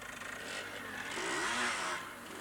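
A Hampshire police training motorcycle being ridden, its engine note climbing and swelling to a peak before easing back, heard fairly close under a windy, breathy background with no speech.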